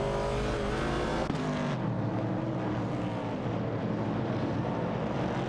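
Several engines from a Pontiac Firebird 70 and AMC Javelin 70 in an AI racing video game drone steadily and loudly, with a brief shift in pitch partway through and no voices.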